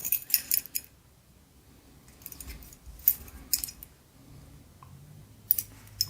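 Two metal keys, a Dome IX KG ball-pin key and a similar one, handled together in light clicks and jangles at close range, with short bursts spread over a few seconds and no voices.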